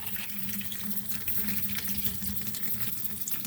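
A hand swishes through very dirty water holding tumbled garnets coated in mica residue, a steady close sloshing wash with no talk.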